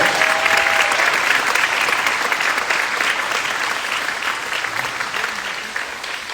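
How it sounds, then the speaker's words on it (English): Audience applause for the young people of a Mikva Challenge Student Advisory Council at a youth-led candidate forum, steady dense clapping from a crowd sustained for several seconds and tapering slightly toward the end. "So give all of our young people from our Mikva Challenge Student Advisory Council a round of applause."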